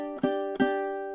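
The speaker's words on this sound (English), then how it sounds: "or you can even strum it, doing something like an up, down, up" Two ringing ukulele strums about a third of a second apart, each with a bright attack and a sustained chord decaying slowly, played alone and close.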